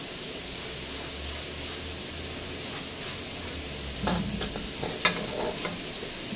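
Chicken steak sauce bubbles in a pan, a steady soft sizzle and simmer that picks up scraping and clattering pan noises in the last couple of seconds, with no talk.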